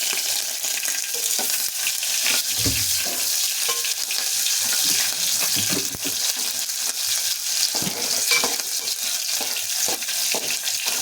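Chopped onions dropped into hot oil fry with a loud, continuous close sizzle, with scattered stirring scrapes and a few low thumps, and no talking.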